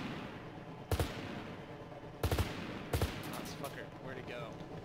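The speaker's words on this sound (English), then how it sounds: "What are you shooting at?" Gunfire in ARMA 3 during a helicopter close-air-support mission: three sharp, loud bursts of shots spaced a second or so apart over a steady background drone, with faint chatter in between.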